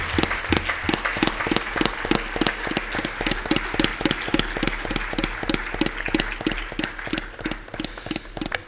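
An audience claps in unison at a Mumbai preparatory meeting for an Ashwamedh Yagna, welcoming a guest. The sharp, rhythmic beats keep a steady tempo for close to nine seconds over a low hum.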